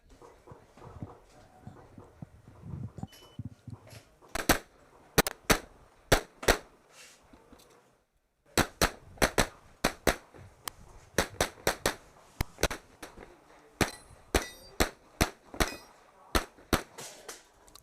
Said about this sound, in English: Two extra shots on that steel.